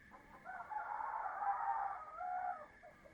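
Backyard hens give a run of nervous, harmonic clucks and drawn-out calls at night, fairly close and steady, with no talking.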